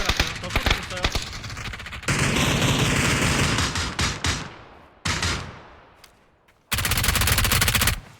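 Gunfire in the video game PUBG rings out in loud bursts of rapid automatic shots, with a sustained barrage in the middle that fades, then a sharp burst at the close.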